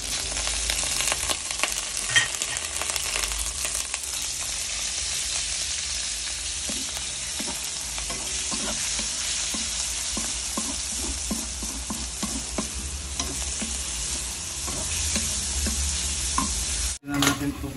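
A pork omelette mixture fries in oil in a pan with a loud, continuous sizzle and crackle, and repeated scraping strokes run through the middle before the sound briefly drops out near the end.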